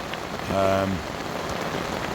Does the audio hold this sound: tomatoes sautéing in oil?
no